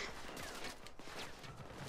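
Rapid, dense gunfire from the video game Payday 2 crackles continuously under noisy game sound for a couple of seconds.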